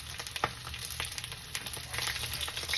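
Cabbage pillows fry in olive oil with a close, busy sizzle, scattered pops and crackles throughout. A faint steady hum sits underneath.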